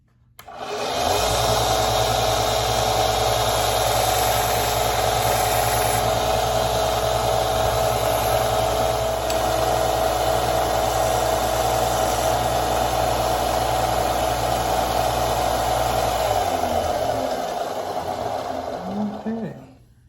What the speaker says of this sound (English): that's okay because we're getting ready to sand it